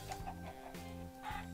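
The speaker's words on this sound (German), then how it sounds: "Seid ihr freigeistige Hühner?" Minecraft chickens cluck in short repeated bursts, three or four soft clucks at close range over a steady quiet game background.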